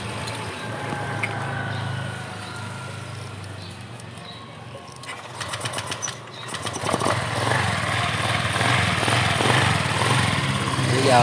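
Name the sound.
Honda PCX 2014 scooter engine running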